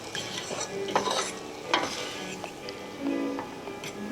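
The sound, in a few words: meat browning in a pan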